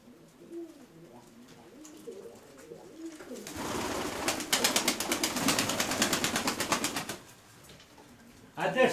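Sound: pigeons cooing

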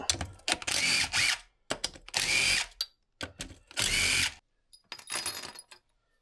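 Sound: removing engine case bolts on a Kawasaki KX250F

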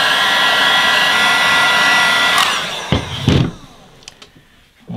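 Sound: heat gun heating PVC to form an axe mask

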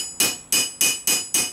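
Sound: hammering metal rivet on medieval armor

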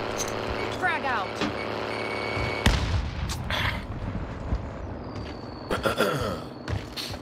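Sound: frag grenade explosion in video game Warzone

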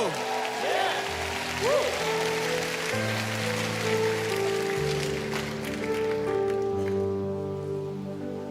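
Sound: congregation applause

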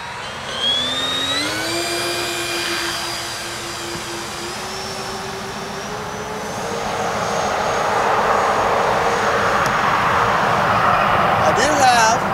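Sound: E-flite Twin Timber RC airplane taking off

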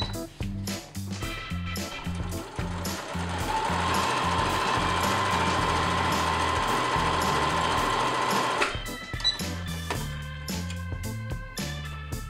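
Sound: sewing a seam on curved fabric edges

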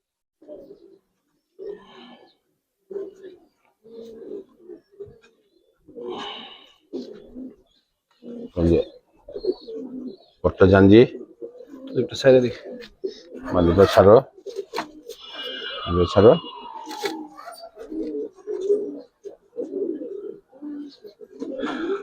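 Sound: Giribaz and coloured pigeons cooing

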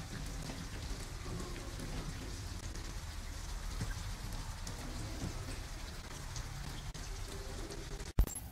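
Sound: rain in video game Detroit Become Human

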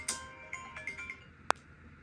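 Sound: phone ringing with an incoming call at night

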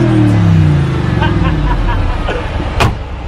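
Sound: Mercedes G63 Brabus 5.5 litre V8 biturbo engine

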